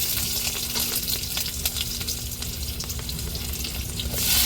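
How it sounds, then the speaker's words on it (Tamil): Crab frying in a pan in a home kitchen, a steady close sizzle and crackle of hot oil with a few soft stirring scrapes, and the sizzle swells near the end. "நண்டை முதல்ல பொரிச்சுக்கிடுவோங்க."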